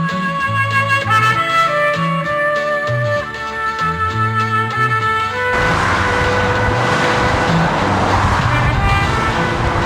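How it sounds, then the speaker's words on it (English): Heavy traffic at Junction 19 of the M62 motorway in West Yorkshire, a steady continuous roar of cars and trucks, with tonal music-like layers over the first half before a broader, denser road rumble takes over. "Junction 19 of the M62 motorway. Not the prettiest and probably one of the busiest motorways this side of West Yorkshire."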